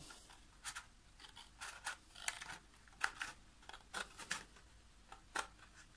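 A series of crisp, quiet snips as fine scissors cut straight through paper, spaced irregularly over several seconds, close by with no voices.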